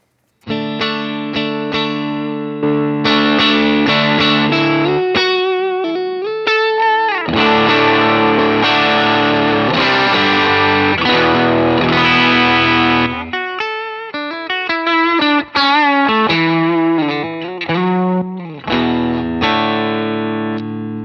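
A distorted electric guitar through a Line 6 HX amp model boosted by a TS1 overdrive plays a long passage of chords and riffs, thick and loud, mixing sustained strums with quicker choppy notes.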